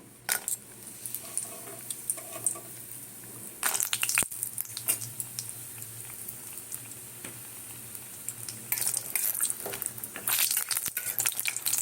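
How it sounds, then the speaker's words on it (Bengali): Lentil dumplings (bori) fry in hot oil in a pan, giving crackling sizzles and scraping, clinking stirs that come in bursts over a low background hum. "তেলটা দিলাম, এইবারে বড়িগুলো ভাজবো।"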